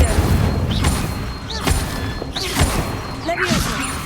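Fire spell bursts cast during Hogwarts Legacy combat: repeated whooshing flares and thuddy impacts roughly every second, loud and close, over a busy game score, with a voice calling out incantations.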